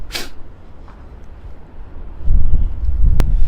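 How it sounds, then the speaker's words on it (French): Gusts of wind rumble against the microphone, growing louder toward the end, with a brief sharp hiss at the start. "Il y a du vent par ici!"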